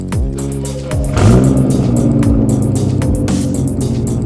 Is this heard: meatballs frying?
no